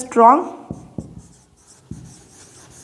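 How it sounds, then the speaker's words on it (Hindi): Writing on a board during a Hindi-language science lesson on acids and bases: a short spoken phrase, then a few sparse tapping and scratching strokes of a marker or chalk, close and fairly quiet. "मैं यहाँ लिख दे रही हूँ"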